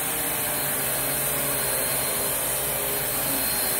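A Riccar R25 upright vacuum cleaner runs steadily while cleaning, a loud, close, continuous motor whine with brush agitation and no pauses.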